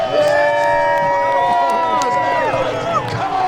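A Battle of Hastings reenactment crowd cheers and shouts in a steady, loud wash of voices, with rising whoops and calls layered over constant babble.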